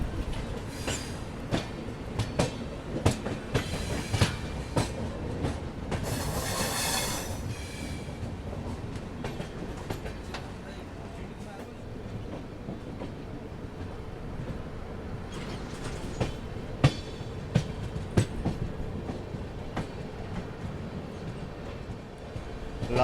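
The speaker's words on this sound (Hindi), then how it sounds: "यहाँ पे देखिए डिपार्चर मिल रहा है सूरत मुजफ्फरपुर एक्सप्रेस को" Surat Muzaffarpur Express pulling out of Ratlam railway station, a steady loud rumble of rolling coaches with rhythmic clickety-clack and occasional wheel squeals throughout, no voices.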